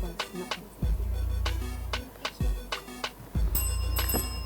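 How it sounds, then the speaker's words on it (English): A quiz show bell rings three times, each a sharp metallic strike with a ringing tail, spaced about a second apart and clear over a low steady background hum; a final brighter chime rings out near the end. "that bell signifies the end of the opening challenge"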